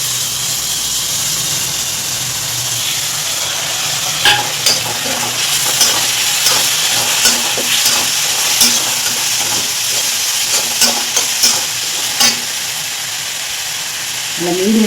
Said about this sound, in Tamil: இந்த தக்காளியை போட்டு நல்லா வதக்கணும்